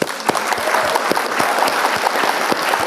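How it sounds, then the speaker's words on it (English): A quick round of applause marking a subscriber milestone, with sparse individual claps sounding out distinctly over a steady wash of clapping that holds evenly throughout. "Let's do a quick round of applause"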